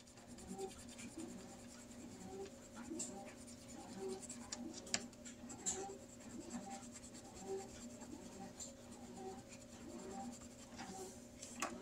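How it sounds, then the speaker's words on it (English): A colored pencil scratches across paper in quick, repeated strokes, faint and close, with no talk. "Let me find a pretty colored pencil."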